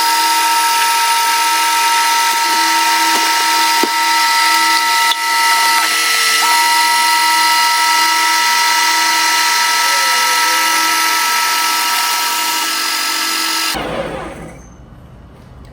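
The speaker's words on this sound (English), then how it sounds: "all I'm gonna do is select mix in" A Ninja Creami machine runs its two-minute mix-in cycle on protein ice cream, giving a loud, steady motor whir with tonal hums throughout, then winding down abruptly near the end.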